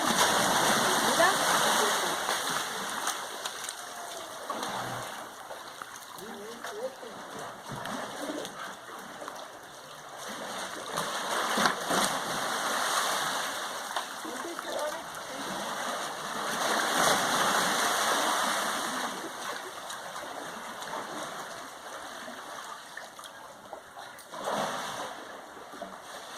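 During an earthquake in Los Angeles, water sloshes and splashes out of a swimming pool in rolling surges that rise and fall, with voices and birds faintly in the background.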